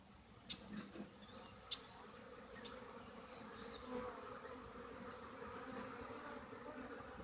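Honeybees buzz in a continuous, close drone at an opened hive, with a few individual bees zipping past louder near the start.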